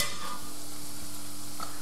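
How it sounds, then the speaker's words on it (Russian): Homemade potato chips fry in hot oil in a pan, giving a steady, close, continuous sizzle and crackle with no voices. "Пока чипсики поджариваются"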